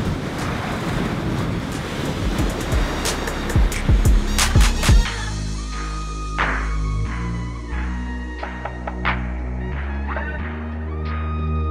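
Strong wind and waves on Lake Balaton: a loud, rough rush of gusts and surf that thins after a few seconds into a steadier windy background with sustained tones over it.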